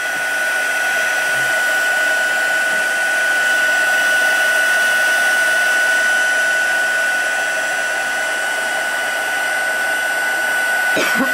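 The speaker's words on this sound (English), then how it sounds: "Then I'm going to bring back my heat tool, but it's going on high." Heat tool blowing on high for a black ice embossing technique, a loud continuous whooshing whine with a steady high tone, running alone for about eleven seconds before a brief clunk at the end.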